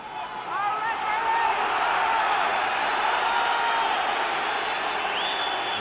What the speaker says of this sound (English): The crowd trying to disrupt the call